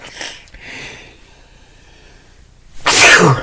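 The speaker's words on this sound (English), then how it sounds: "That's causing me to sneeze." A single loud, close sneeze bursts out near the end after a quiet intake of breath and a faint sniff.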